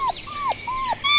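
A puppy whimpers in three short, high, falling whines followed by a brief yip, close and clear with nothing else behind it.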